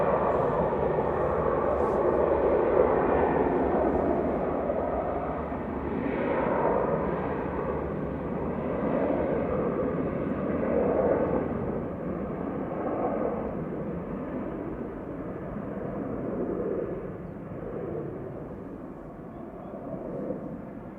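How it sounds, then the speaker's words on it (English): A TUI Boeing 737-800 arriving at Manchester Airport roars as a broad, steady engine rumble that swells and slowly fades over about twenty seconds, with no voices heard. "TUI coming in from Heraklion. GTUKS 737-800, first delivered to Transavia"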